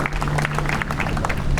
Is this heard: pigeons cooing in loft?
no